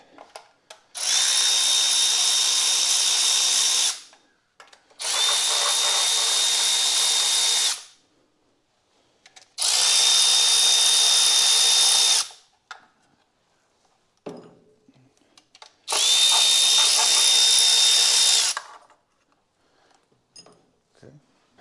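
A power tool removes the valve cover nuts on a 1967 Chevrolet C10 engine left abandoned for 32 years, four loud whirring bursts of a few seconds each separated by pauses with small clanks and brief talk.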